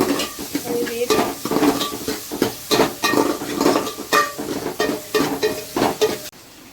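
Curry leaves crackle in hot oil for a dried seer fish curry, loud rhythmic bursts of sizzle and stirring scrapes following one another closely before stopping abruptly.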